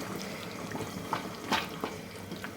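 Water poured into a pot of curry on a home stove, faint gurgling and light splashy pulses with a few brief louder splashes over quiet background, no talking.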